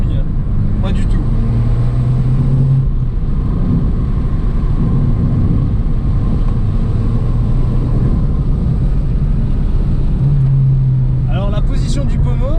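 A Fiat 500 Abarth on a test drive gives a constant, close engine drone heard from inside the cabin, with its note rising in a couple of stretches and a voice faintly at the end.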